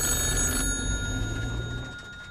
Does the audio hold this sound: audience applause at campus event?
no